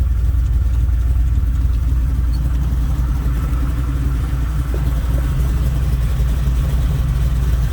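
A 1967 Chevrolet Camaro engine idling in neutral, a steady low rumble that stays even and continuous throughout, close and fairly loud with no talk over it.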